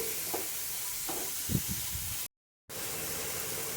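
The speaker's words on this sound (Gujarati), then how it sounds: "આ બધી વસ્તુને ગેસની ફ્લેમ મીડિયમ રાખીને 1 થી 2 મિનિટ માટે સાંતળી લેશું" Chilies, onion and tomato sauté in oil over a medium gas flame for a coriander and green chili chutney, giving a steady soft sizzle with a few louder stirring scrapes, broken by a brief silent gap.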